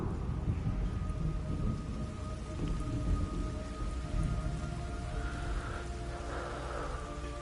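Steady rain pours with low rumbling thunder rolling underneath in a Metal Gear Solid Delta game scene, a dense continuous wash with no voices.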